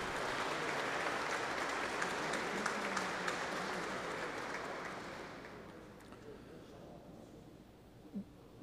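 Audience at a Brazilian solemn session honoring World War II veterans applauds the honorees, steady clapping that fades after about five seconds, with murmuring voices underneath.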